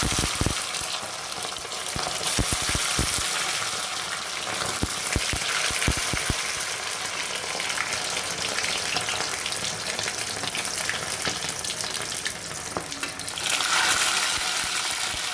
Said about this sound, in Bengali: এখন আমি এটাকে একে একে তেলের মধ্যে দিয়ে ডিপ ফ্রাই করব।